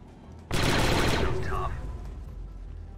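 Soldiers firing in the video game Star Wars XCOM 2: a sudden dense burst of rapid blaster-style shots erupts and rattles loudly for about a second before tapering into a ringing tail, close and alone.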